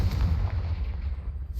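A Confringo fire spell in Hogwarts Legacy goes off as a deep, booming blast with a rumbling low-end body that fades out over about a second and a half.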